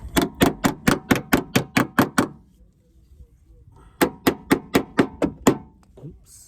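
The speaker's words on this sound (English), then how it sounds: "Let's get the smaller hammer." A small hammer pounding on a damaged 2016 Fiat Panda body panel during a DIY salvage repair, two rapid bursts of about nine sharp metallic blows each, separated by a short quiet pause.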